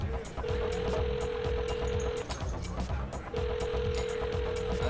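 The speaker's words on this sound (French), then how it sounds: "OK, ben, je vais t'appeler." A home telephone rings unanswered, two long buzzing rings separated by a pause, heard under continuous background noise.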